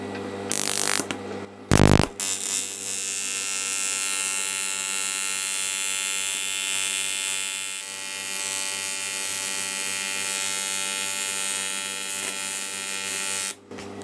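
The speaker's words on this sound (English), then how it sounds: "It is welding, but it's not pleasant." Welding on a damaged alloy engine sump during a repair gives a steady, loud buzzing hiss that holds for most of the stretch, broken by a short gap and sharp bursts near the start.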